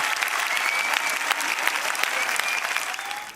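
Dense, steady applause from a concert crowd of over four thousand spectators in Sicily, a continuous wash of clapping with faint whistles on top.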